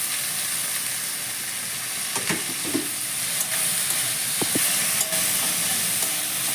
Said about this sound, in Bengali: রসুন আর পেঁয়াজটাকে যতক্ষণ কাঁচা গন্ধ না যাবে আমাকে একটু লাল লাল করে ভেজে নিতে হবে